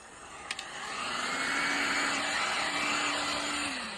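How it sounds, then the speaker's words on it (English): A heat gun blows across a resin coaster, its steady, loud whooshing roar with a faint whining tone swelling in after a couple of sharp clicks and holding close and even. "Now say I want to hit that side with the heat gun"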